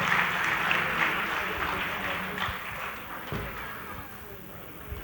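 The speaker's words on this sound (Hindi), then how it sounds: "जोर से ताली बजा करके स्टेज पर स्वागत करें।" An audience claps to welcome a speaker onto the stage at a golden jubilee felicitation ceremony, steady applause that gradually thins, with faint background voices.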